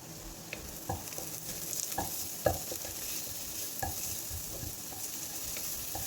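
Chopped vegetables sauté in a pan for nurukku gothambu rava uppumavu, a soft steady sizzle with intermittent spoon scrapes and taps as the mixture is stirred, faint and close, with no voices.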